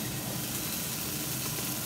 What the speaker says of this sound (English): just let them sizzling for a minute